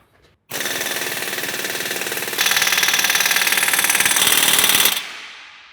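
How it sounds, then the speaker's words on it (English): A loud pneumatic impact wrench tightens exhaust clamps on a cat-back exhaust install, rattling in long continuous bursts, hammering steadily and growing harsher midway before cutting off. "We went ahead and got the bigger impact gun to get these things tightened down."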